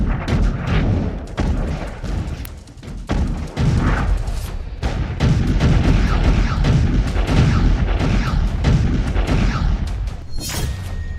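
Missile and rocket explosions on a battlefield, heard as a continuous barrage of heavy booms and thuds that stay loud and dense throughout, with no voices.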